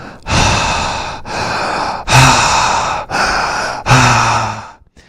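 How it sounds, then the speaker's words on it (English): A person breathes loudly into a high-sensitivity microphone, amplified so each breath roars: five long, heavy breaths in steady rhythm, very close and loud, with no talking. "if I increase the sensitivity of the microphone, even my breathing would be loud"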